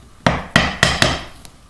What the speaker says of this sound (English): the staple puller works by getting underneath the staple with this sharp point and lifting it up and driving it with the mallet